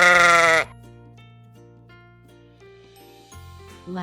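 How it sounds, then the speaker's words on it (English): A sheep lets out one short, loud bleat at the start and then fades under soft background music. "Sheep."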